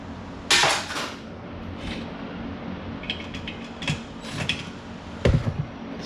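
Aluminum load cells being pried and pulled off a Wii Fit balance board during a teardown, with sharp metallic clicks, clanks and rattles in scattered bursts, close by and with no talking.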